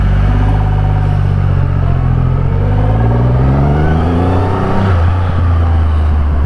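Triumph Rocket 3 R motorcycle engine revving and pulling hard close up, a loud rising exhaust roar with a gear change midway.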